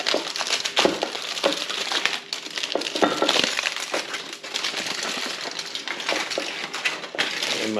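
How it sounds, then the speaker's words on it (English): A bourbon bottle gift-wrapped as a chocolate Easter bunny being unwrapped by hand: close, continuous crinkling and tearing of wrapping with small crackles and clinks over about eight seconds. "I think I'm going to unwrap this thing and see what it is."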